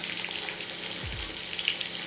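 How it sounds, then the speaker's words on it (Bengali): Katla fish fries in a pan with a close, continuous crackling sizzle and no talking. "এখানে মাছ ভাজা হচ্ছে"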